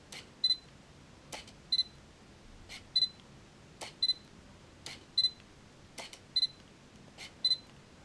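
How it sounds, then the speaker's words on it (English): A Sony 35mm f/1.8 SAM lens on an LA-EA2 adapter, not a silent-motor lens, drives its autofocus motor in repeated short whirring bursts, each followed by a camera beep, about once a second, close and clear over quiet background. "What you're hearing is the sound of the lens, which is not a silent motor lens."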